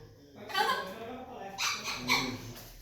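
A parrot imitating a dog, giving several short yapping barks close by, with a voice coaxing between them.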